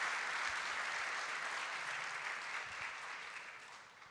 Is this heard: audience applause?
yes